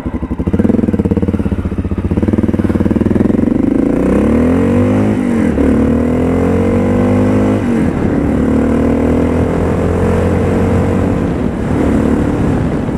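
A Honda FMX 650 supermoto motorcycle engine runs loud and close, revving up and down in repeated swells over a steady idle rumble, with no talk.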